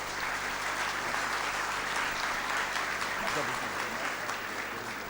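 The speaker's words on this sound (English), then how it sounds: "A big round of applause as Carol does that." Audience applause at a KEPSA 10th anniversary celebration, a dense, steady wash of clapping that holds at full strength throughout.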